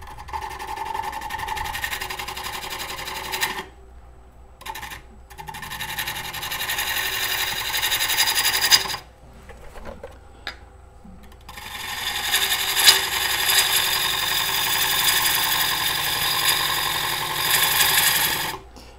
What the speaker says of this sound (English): I'm going to start with a push cut.